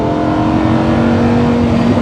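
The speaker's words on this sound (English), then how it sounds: "As soon as I jump on the accelerator a little bit," A Lamborghini Huracan EVO LP640-4 engine revs on the accelerator, a loud, close, sustained mechanical drone with a steady pitch held throughout, with no voices over it.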